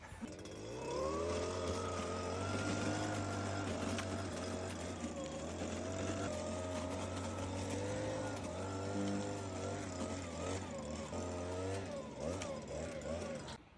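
A Stihl petrol garden vacuum with a collection bag runs steadily outdoors, a droning two-stroke engine with small pitch rises as it sucks up leaves, fairly faint and continuous for most of the stretch.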